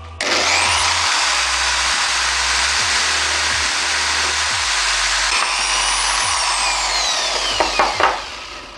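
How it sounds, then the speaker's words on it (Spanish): A steady, loud power-tool whine drilling a large hole continuously for several seconds, with faint low thumps underneath and a few clunks near the end. "Hacemos el taladro grande para que pase el eje del motor."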